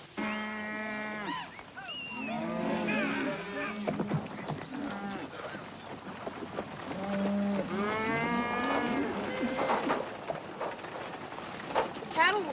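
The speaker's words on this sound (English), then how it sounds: "Cattle will be glad to get a drink." Cattle on a trail drive in an old Western moo repeatedly, with long drawn-out calls in two bursts, some overlapping, set against a steady outdoor hum.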